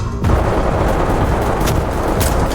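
Gunfire in the tactical shooter Ready or Not during a four-player squad raid on a neon nightclub: dense, loud shots with sharper cracks rising out of a continuous roar, all alone with no talking.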